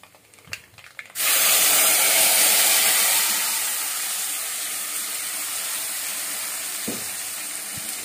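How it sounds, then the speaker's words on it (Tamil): Tamarind water poured into a clay pot of rice for puliyodharai, a sudden loud hissing sizzle that starts after a second of small clatter and holds steady, slowly easing, with a couple of faint knocks near the end. "இப்போ புளி கரைச்சல ஊற்றிக்கலாம்"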